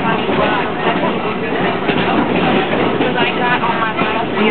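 A Busch Gardens amusement park train rumbles along steadily with a continuous rolling clatter, while a voice talks over it throughout.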